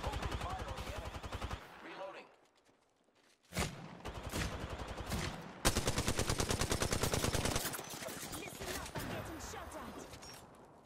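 Automatic gunfire in the battle royale shooter Apex Legends: rapid, loud bursts of shots stop briefly near the start, then resume in long, dense volleys.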